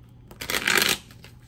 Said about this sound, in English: I'm gonna give you one real shuffle.